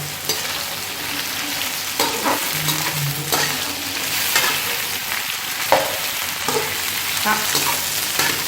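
Okra (bhindi) frying in hot ghee in a pan for achar bhindi masala, with a constant close sizzle broken by repeated stirring scrapes and clicks.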